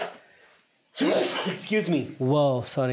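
A single sharp sneeze bursts out after a quiet moment, followed at once by a person speaking close to the microphone.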